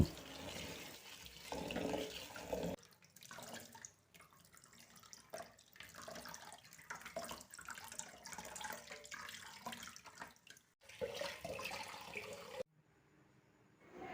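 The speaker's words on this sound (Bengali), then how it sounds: "শাক মানে ভালো করে ধুতে হবে, বেশ কয়েকবার ধুয়ে নিচ্ছি।" Water spinach is washed by hand in water, with steady splashing and swishing that runs for most of the clip before stopping near the end; the sound is fairly quiet and close, with no speech.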